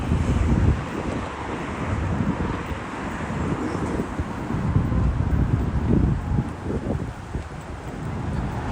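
Strong wind by the water in New York buffets the microphone in loud, rumbling gusts, with a faint wash of water and distant boat noise underneath.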